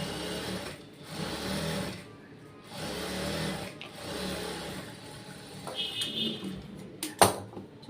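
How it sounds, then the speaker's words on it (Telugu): A sewing machine stitches a waistband onto the back lining of a garment, running in several steady bursts with short pauses between them. A brief sharp clack comes near the end, and no one speaks. "ఈ నడుం పట్టిని ఇక్కడ మనం ఇట్లా బ్యాక్ సైడ్ లైనింగ్ మీద ఒక స్టిచ్ వేసుకున్నాం అనుకోండి"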